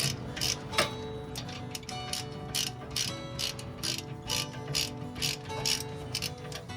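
A ratchet loosens a 14 mm bolt during a wheel bearing replacement on a 2019 Toyota Camry. It makes rapid, rhythmic clicking in steady bursts, close by and fairly quiet, with no talking.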